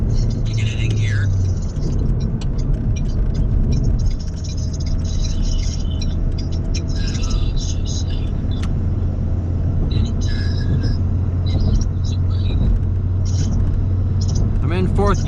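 A Saturn SC2 car drives along in fourth gear, its steady engine drone and road rumble filling the cabin at close range throughout, with people talking over the noise.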